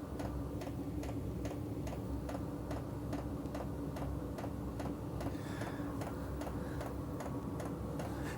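A Chinese diesel heater bought from eBay, installed in a garage, ignites and runs with a steady, rapid ticking pulse over a continuous broadband roar, growing louder as it gets going; no one speaks.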